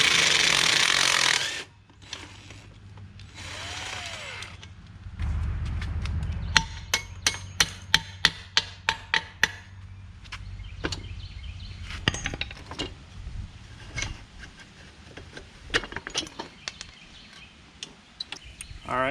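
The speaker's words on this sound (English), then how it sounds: "So now we're going to take the back wheel off." Rear wheel coming off a dirt bike during a chain and sprocket change: a sharp metallic clatter and rapid clinks of tools and parts in a workshop, preceded by a brief loud mechanical burst.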